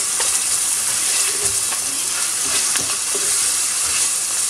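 Oil sizzles and fries steadily in a hot pan, a loud, continuous crackling hiss with faint scraping, and no voices over it.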